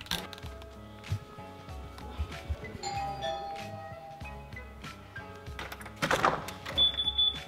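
A house doorbell rings at a family birthday gathering, its chime tones standing out over a busy, cluttered background of indoor noise and movement, with a brief louder burst near the end.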